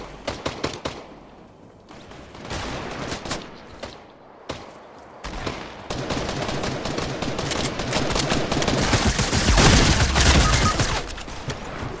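Rapid Fortnite gunfire fills the scene: scattered single shots give way to dense, continuous automatic bursts that grow louder and more crowded, close and harsh, with no talk over them.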